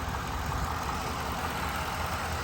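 A 2004 Mercury Marauder with a V8 engine idles steadily, a low, even rumble with a constant hum and no revving.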